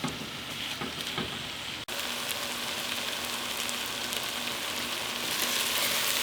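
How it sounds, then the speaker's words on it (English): Onions cooking down in a cast iron Dutch oven, two pounds of them with a little salt, giving a steady, dense sizzle and crackle close by, with a brief stir-like break early on and no talking. "I have added in the onions, and we're going to let those cook down"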